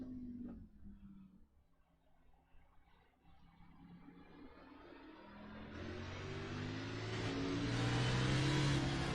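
Onboard engine of the number 17 Ford NASCAR car in the iRacing game, quiet at first then building into a loud, rising rev as it accelerates off a corner, continuous and close with no talk.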